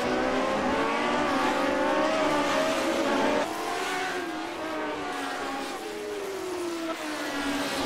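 Lotus 79 classic Formula 1 cars racing wheel to wheel at Zandvoort in iRacing, their engines wailing at high revs. The steady, loud roar shifts pitch as the cars pass and change gear, with no talk.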